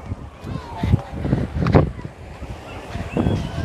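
Surf rolls and washes in the background on the beach at Shanzu, Mombasa, Kenya, while gusty wind buffets the microphone, with occasional louder swells rising over the steady rush.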